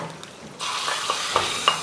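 Vadagam and curry leaves tipped into hot oil in a pan start a sudden loud sizzle that keeps crackling steadily, with a few faint clinks before the pour.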